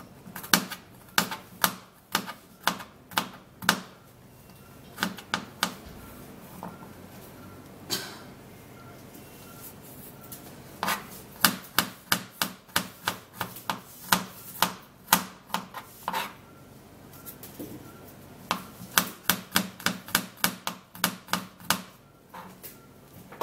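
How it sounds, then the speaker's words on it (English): A knife chops garlic into small pieces on a cutting board in quick rhythmic runs of sharp, close knocks, pausing between bursts, with no talk. "I'm gonna try to cut the garlic into smaller pieces."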